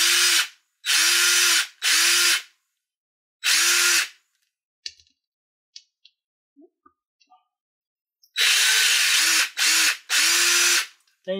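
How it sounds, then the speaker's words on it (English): Cordless power drill driving a screw into the wheel hub of an Axial RR10 Bomber 1/10 scale electric 4WD RC kit, heard as several loud whirring bursts with short pauses, faint clicks between, then a final cluster of bursts. "get your power drill."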